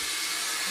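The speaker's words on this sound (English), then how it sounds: "We rinse the pot out." Water running and splashing steadily into a cooking pot as it is rinsed out in a home kitchen, a continuous close hissing wash with no pauses.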